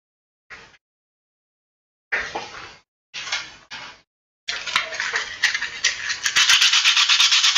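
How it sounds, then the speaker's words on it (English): Sandpaper rubs against a 3D-printed plastic stand in short separate strokes, then in a faster continuous run of close, raspy scrubbing. "Just by using a little sandpaper most of the time."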